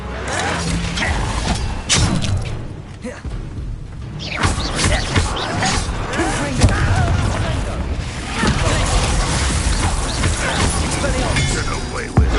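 Confringo blasting spells in Hogwarts Legacy go off in repeated thumping booms amid a busy, loud duel of clattering impacts and spell effects, with spoken voices occasionally over the action.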